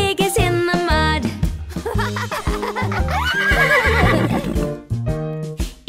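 Horse neighing in a children's farm song: a loud, close whinny rising and falling over a bouncy musical backing, with clip-clop and melody around it.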